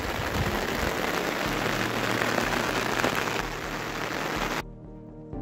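Steady heavy rain pours outside rock caves in the hills, a dense even hiss of drops on surfaces that stays loud and continuous before dropping away near the end.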